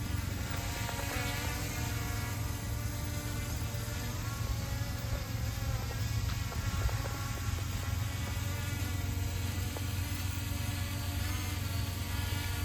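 PLEGBLE PL-510 foldable toy drone buzzing steadily in flight, a continuous insect-like whine held close and even throughout with no talk.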